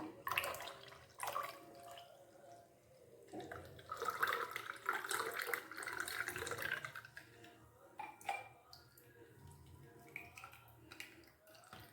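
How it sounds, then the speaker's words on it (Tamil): Freshly blended passion fruit juice, made from fruit picked in a rooftop garden, is poured through a strainer, giving a steady close-up trickle and splashing of liquid. "இப்போ இதை வடிகட்டிடுவோம்"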